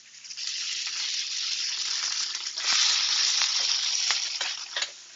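Butter sizzles hard in a hot pan with two steaks, a steady loud frying hiss that swells partway through, with a few sharp crackles and spatters.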